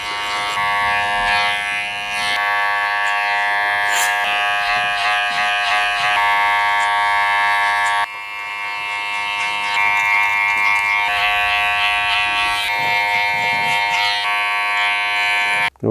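Electric hair clippers fitted with a guard buzz steadily while fading permed hair, a continuous close drone with one brief dip midway and small crackles as the blades pass through hair.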